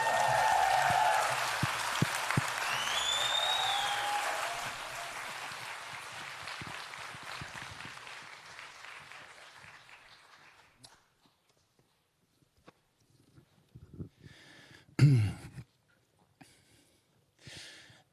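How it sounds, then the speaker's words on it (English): Audience applause at a Māori cultural gathering as a performer is welcomed, a dense steady wash of clapping that fades out over about ten seconds, leaving near silence with a few faint scattered sounds. "Please give a warm round of applause for the extraordinary Rob Ruha."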